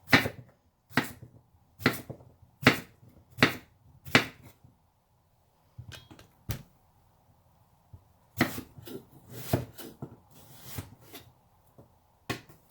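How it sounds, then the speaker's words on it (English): A knife slices a cucumber on a cutting board in a steady run of sharp, close taps, pauses briefly, then resumes with a few more scattered cuts; no voices. "I'm just going to go ahead and cut these into little slices."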